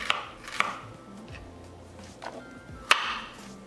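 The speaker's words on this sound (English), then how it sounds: "Garlic, ginger, we're going to make it smaller cut." A knife chopping garlic and ginger into smaller pieces on a board, a few distinct sharp chops spaced irregularly over a quiet background.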